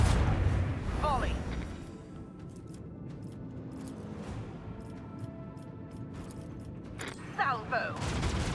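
In the video game Warhammer 40k: Rogue Trader, a starship battery fires a volley, heard as a rumbling barrage of booming shots with sharp bursts near the start and end over continuous game sound.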